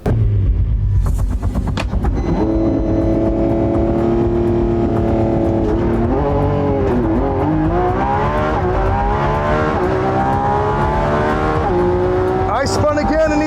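A Lamborghini Revuelto and a Corvette ZR1 launch off the line in a drag race, their engines roaring loud and close and rising steadily in pitch as they accelerate through the gears, with a voice heard briefly.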